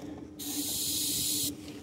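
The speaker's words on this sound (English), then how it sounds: "Spraying a little again on the air cleaner." A steady, loud spray of ether starting fluid onto a diesel engine's air cleaner hisses for about a second, then cuts off abruptly, with a low hum in the background, at -6 °F.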